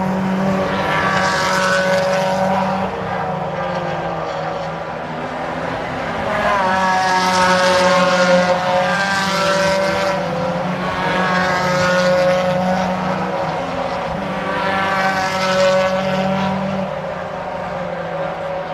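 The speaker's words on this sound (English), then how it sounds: "the cars wreck through into the back section of Cadwell Park" Ford Fiesta Junior race cars run at Cadwell Park, their engines rising and falling in loud, overlapping passes. The high revving howl swells and fades several times against a steady background roar.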